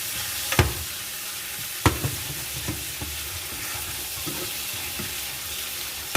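Ginger garlic paste frying in hot oil for a chicken Madras: a continuous close sizzle with a few sharp spoon clicks against the pan, no talking.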